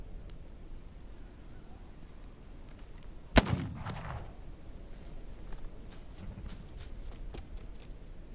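A single sharp gunshot rings out in the video game This Land is My Land, loud and close, with a short echoing tail over a quiet wind-like outdoor ambience.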